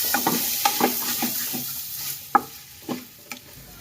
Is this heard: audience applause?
no